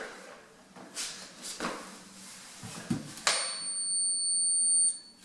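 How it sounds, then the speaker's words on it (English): A small handheld stud detector, held against a wall near a baseboard, gives a steady electronic tone from about the midpoint, with thin high harmonics holding for nearly two seconds before cutting off, after scattered handling taps and rustles. "Alright, so a little stud detector here"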